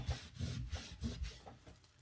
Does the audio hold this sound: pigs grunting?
no